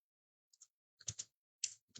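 Keystrokes on a computer keyboard, a few quick isolated clicks and then a short burst of clustered presses, close and fairly quiet with silence between.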